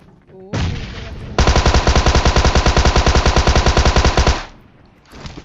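Automatic gunfire in the PUBG Mobile game comes as a loud, sustained rapid-fire burst of evenly spaced shots lasting about three seconds, preceded by a steady tone and followed by a fading tail.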